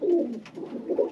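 Low, soft cooing from pigeons kept for long endurance flights, a brief rolling murmur at moderate distance with no voices over it.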